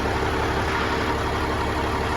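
A Caterpillar 3406E diesel engine idles after starting during an injector health test, giving a steady, loud, even rumble with constant vibration and no speech.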